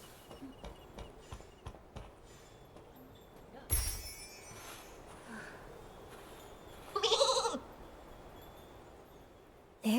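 Flora sheep in the Infinity Nikki video game: a few short bleats heard, the clearest two several seconds apart, over light ambient game sounds and small clicks.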